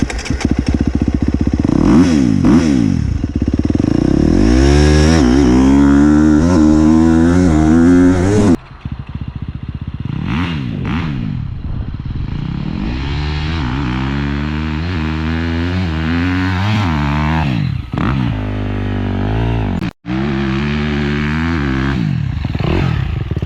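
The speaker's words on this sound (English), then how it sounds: "We're going to accelerate as fast as we can to that cone, and then stop evenly and as fast as we can once we get there" A dirt bike engine revs hard through repeated accelerations, loud and close, with rising and falling pitch as it speeds up then drops off while braking, cycling several times.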